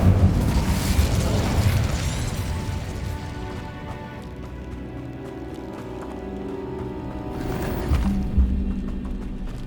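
An Incendio fire spell cast in the Hogwarts Legacy video game bursts out in a loud, rumbling blast that fades into a low roar, with a second fiery burst flaring near the end.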